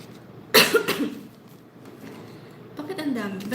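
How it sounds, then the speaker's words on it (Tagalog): A sharp, loud cough bursts out, followed by a few softer coughs, then a voice murmurs briefly afterward. "Ba't inuubo ako?"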